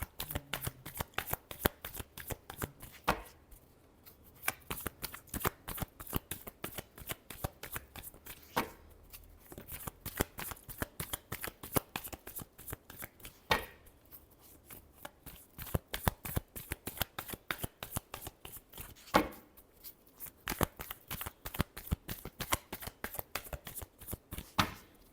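Tarot cards being shuffled by hand during a weekly horoscope reading, a long run of quick, crisp riffling flutters repeating in close bursts with brief pauses, near and alone without speech.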